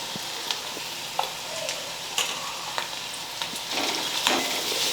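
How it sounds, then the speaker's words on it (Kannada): Onions fry in a pan with a continuous close sizzle, punctuated by regular light clicks and scrapes of a spatula, growing a little louder near the end. "ಈ ಉಳ್ಳಾಗಡ್ಡಿ ಸ್ವಲ್ಪ ಫ್ರೈ ಆಗಬೇಕು."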